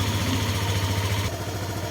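A motorcycle engine idles during a carburetor adjustment on a rich-running fuel mixture, a close, steady throbbing rumble whose tone shifts slightly partway through.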